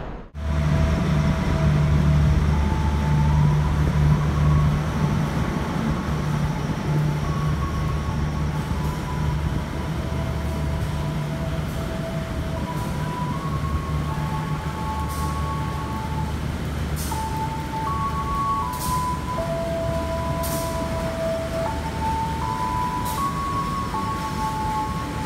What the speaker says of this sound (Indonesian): Seperti biasa, kereta Mataram menyusul kereta